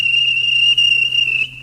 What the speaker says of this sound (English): the guard's whistle.